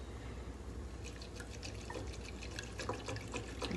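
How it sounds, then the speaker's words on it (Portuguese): Cream being mixed into cold water-based liquid in a kitchen, heard as faint wet splashing and dripping clicks that grow more frequent over a quiet background, with no talking. "eu misturo uma caixinha de creme de leite"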